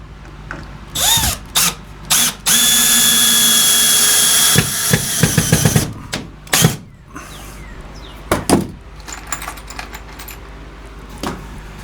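A power drill drives screws into a wall while a small-shop workbench is mounted, with a long loud whirring run, short spurts before and after, and scattered clinks and handling noises.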